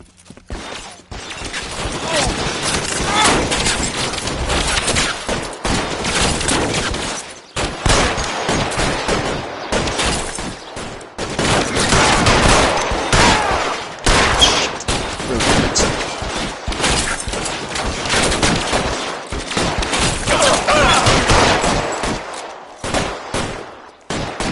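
Dense, loud gunfire fills a shootout in LA Noire, with rapid overlapping shots and bursts nearly continuous, brief lulls between volleys, and some shouted voices mixed in.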